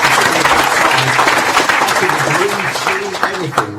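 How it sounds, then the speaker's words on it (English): A fan forum audience of football supporters claps loudly and steadily, broad dense applause close by that tapers slightly toward the end while a voice speaks over it. "Give yourselves a round of applause,"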